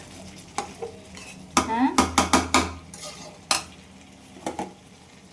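Goat liver cooks in a pan with a quiet background sizzle broken by a quick cluster of sharp metal spatula scrapes and clinks against the pan, then a few scattered knocks, close by; a brief spoken word comes through.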